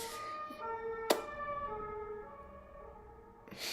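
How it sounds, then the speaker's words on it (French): A fire engine siren wails as it passes by outside, with a steady tonal sweep at moderate distance and a sharp click partway through. "il y a les pompiers qui passent"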